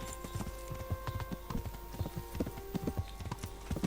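Horse hooves clip-clop in a steady, quick rhythm in the medieval video game Kingdom Come: Deliverance. The hoofbeats sound close and moderately loud over a faint background tone.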